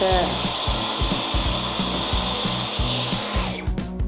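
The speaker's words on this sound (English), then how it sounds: "I actually keep my vacuum in the bathroom because when I put my hair on the wall, I just vacuum it" A vacuum cleaner in a bathroom sucks up hair, its steady close-up whine running loud for several seconds with bumping and rubbing against the wall before switching off.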